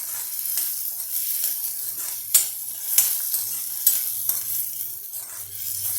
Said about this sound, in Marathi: हे थोडं छान आपण परतून घेऊया